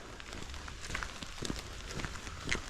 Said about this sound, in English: And with the rain in the trees,